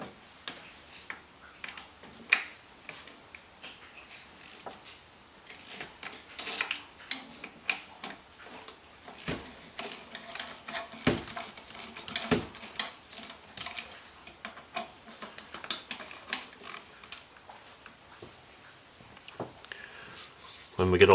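Ratchet clicks and tool ticks sound in quick, irregular bursts while T30 Torx bolts are worked loose from the intake actuator motor on an Audi A4, close and fairly quiet.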